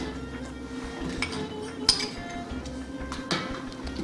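Metal lid set down on a cooking pot in a home kitchen while quince and scallop stew simmers, giving a single sharp clink near the two-second mark and a softer knock later over quiet background noise.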